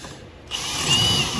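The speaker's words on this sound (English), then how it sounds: "quickly drill through with the canvas, and put a bolt through there" A power drill bores through the canvas and hopper on a ReliaBelt conveyor. The motor starts abruptly after a short quiet and holds a loud, steady high whine close to the microphone.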